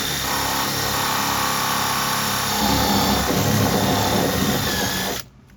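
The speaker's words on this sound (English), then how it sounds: "and then just start drilling." Power drill boring out a plastic door panel rivet on a 2009–2013 Toyota Corolla, a continuous close whining grind that roughens partway through and cuts off abruptly at the end.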